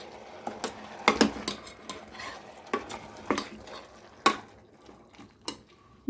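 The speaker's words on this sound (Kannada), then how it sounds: "ಎಲ್ಲ ಮಿಕ್ಸ್ ಮಾಡ್ಕೊಳ್ಳೋಣ." Ground masala being stirred into a pan of jackfruit sambar: a steady run of scraping stirs with sharp ladle clinks against the pan rim, close and clear, with a faint sizzle beneath and no talking.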